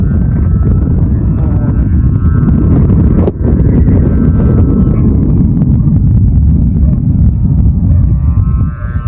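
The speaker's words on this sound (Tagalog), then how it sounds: "Sobrang ganda ng hangin ngayon guys. Hanging amihan." Strong amihan wind roars across the microphone outdoors during kite flying, a loud, continuous buffeting rumble with no talk.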